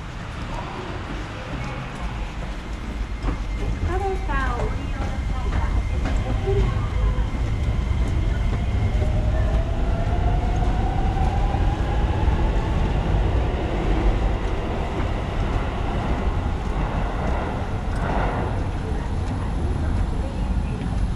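A Shin-Keisei electric train pulls out of elevated Kita-Hatsutomi station, its motor whine rising steadily under constant rolling rumble and ambient station noise.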